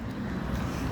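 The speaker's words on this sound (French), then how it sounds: "petite Porsche qui est en train de partir" A Porsche Panamera pulls away from a car meet, its engine a steady low rumble mixed with wind buffeting on the microphone, heard alone for a moment.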